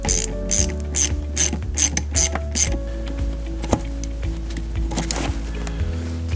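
A hand ratchet clicks in quick bursts while loosening a brake caliper bolt on a car, close and crisp, with pauses between the strokes and a few metallic knocks.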